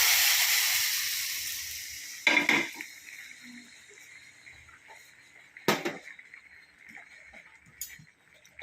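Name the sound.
fried mustard seed tempering poured into prawn curry, sizzling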